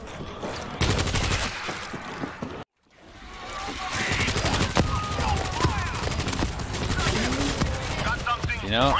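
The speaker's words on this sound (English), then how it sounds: "Grab the fucking assault rifle." Assault rifle fire rattles through a zombie video game in repeated sharp bursts. The noise breaks off in a brief silence and then resumes under continuous loud game sound, with people talking throughout.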